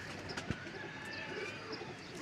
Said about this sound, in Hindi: ये प्योर टैडी कबूतर हैं जी